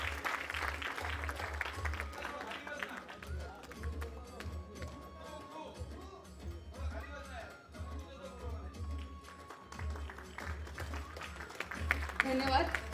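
An audience at the launch event of a Marathi kirtan talent show claps, a quiet and somewhat distant patter mixed with voices and a low hum in the hall.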